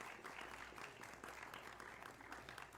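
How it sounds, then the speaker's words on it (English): Warm applause from a church congregation at a Mission Sunday service welcoming a guest, a dense, continuous patter of many hands, fairly faint and distant, lasting the whole moment. "Y'all give her a welcome, warm applause."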